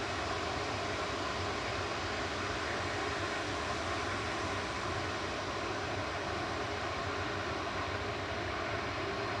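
An airliner, flight 2141 registered EIKD, lined up for departure from Manchester Airport to Krakow, Poland: a steady, even jet engine roar at a distance, constant throughout with no talk.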